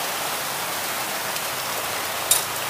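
Steady rain falling and splashing at a street food stall at a Jakarta intersection, a dense even hiss close by with one sharper splash near the end and no voices.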